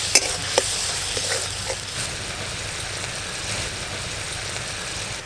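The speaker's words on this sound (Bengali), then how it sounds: "অল্প একটু জল দিয়ে আর একটু ভালো করে মশলা কষবো।" Spice paste stir-fried with a splash of water for a curry of small river fish and bottle gourd: a soft continuous sizzle with a few early spatula scrapes and clicks.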